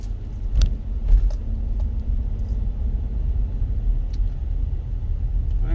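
A 2007 Cadillac SRX with a worn driveshaft center support bearing, driving slowly around the block: a steady low engine and road rumble from inside the car, with a couple of brief knocks or jingles early on.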